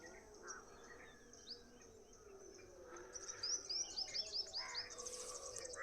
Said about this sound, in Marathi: पक्ष्यांचे सुंदर सुंदर आवाज आपण ऐकू शकतो